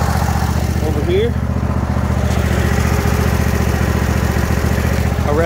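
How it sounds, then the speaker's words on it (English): A Troy-Bilt Mustang 60-inch RZT zero-turn riding mower engine idles close by, giving a steady, even low rumble with no change in pace for the whole stretch. "Motor runs smooth, doesn't blow any smoke or shake or anything it's not supposed to do."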